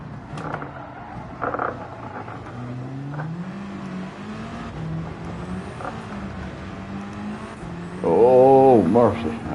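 Race car engine in Gran Turismo 7 while driving, a steady droning note that rises and falls through shifts, with a sharp revving surge near the end, under someone talking.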